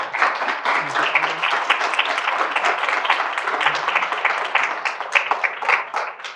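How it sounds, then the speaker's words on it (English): An audience at a panel on 50 years of hip-hop claps steadily, a dense, even round of applause lasting several seconds with a few faint voices mixed in. "can we give a round of applause for this panel?"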